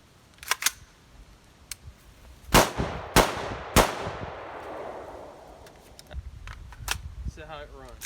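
Three sharp AR-style rifle shots crack in quick succession at an outdoor range, each trailing a long decaying echo, with lighter clicks and handling noises before and after; no one speaks.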